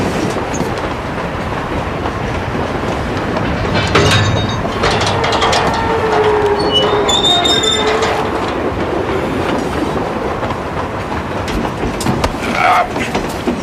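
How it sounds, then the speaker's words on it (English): A train rumbles steadily along its rails with clattering, ratcheting wheel noise and faint high metallic squeals, loud and close throughout. "This train is bound for glory."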